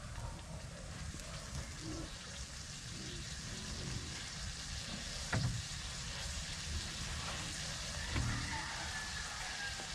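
A pot of ginataang pako, fern simmered in coconut milk, coming to a boil: a steady, faint crackling hiss of bubbling liquid with occasional soft pops, continuous and unbroken, no voices.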